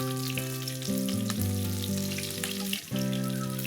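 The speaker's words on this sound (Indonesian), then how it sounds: "Ini kita goreng bawangnya terlebih dahulu." Onions sizzle in hot oil as the first step of a sambal for a spicy egg and green bean scramble, a continuous close crackling fry over background music.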